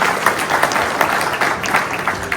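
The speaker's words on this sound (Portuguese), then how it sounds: "Uma salva de palmas para ele" Applause from an audience at a Brazilian community debate on immigration, a steady crowd clapping that stays fairly loud and dense throughout with no break.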